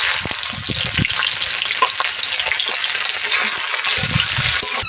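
Spice-coated fish frying in oil in a pan, a loud dense crackling sizzle throughout with occasional stirring knocks, close and steady, with no speech.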